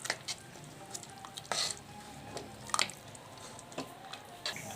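Boiled pav bhaji vegetables, already cooked down in a pressure cooker, being mashed with a hand masher: soft squelching thumps and stirring scrapes come at irregular intervals, fairly quiet and close, with no voices.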